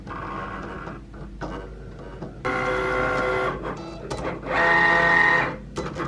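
Sticker cutting machine running in fast mode over a printed sheet, with whirring carriage movements in short bursts and louder sustained passes, close by with a quiet room behind.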